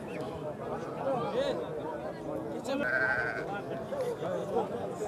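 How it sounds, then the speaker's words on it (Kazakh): Rams bleat at a livestock market in Nookat, with one clear drawn-out bleat rising over a crowded murmur of voices and general market noise. "Өтө сонун кочкорлор экен."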